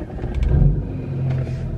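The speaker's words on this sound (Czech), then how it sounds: "Tady to auto je brutálně hlasitý." A loud car engine rumbles steadily while driving, with a brief rise in revs near the start and a low, continuous drone throughout.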